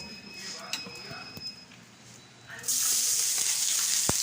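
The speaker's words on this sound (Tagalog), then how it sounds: "Tsaka magpiprito na rin ako ng sinaing na tulingan." Oil sizzles loudly as sinaing na tulingan, cooked skipjack tuna, fries in a pan, a bright steady hiss that swells suddenly partway through, with faint kitchen clatter before it.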